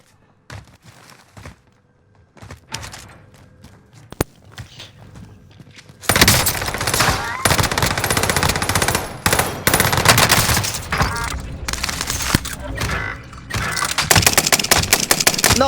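Rapid bursts of automatic gunfire in a video game, sparse at first and then dense and continuous, loud and sustained for the latter half with clattering repeated shots.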